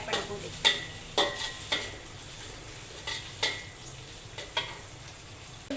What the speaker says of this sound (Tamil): ப்ரான் ஃப்ரை பண்ணும்போது.